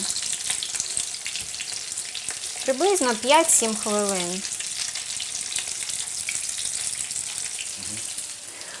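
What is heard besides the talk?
buckwheat patties frying in a pan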